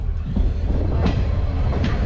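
Steady low rumble of a moving Vande Bharat train, a continuous heavy drone with faint rattling on top and no voices.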